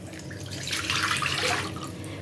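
Warm water pours into a half-liter jar to dissolve yeast, a gurgling stream that swells in the middle and then tapers off.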